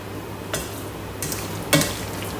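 Spaghetti being stirred with bacon and shallot juices in a dish, three brief scraping strokes spaced about half a second apart over a steady low sizzling background, close and fairly quiet.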